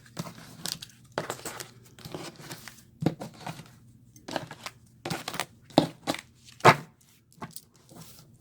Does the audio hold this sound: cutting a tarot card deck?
yes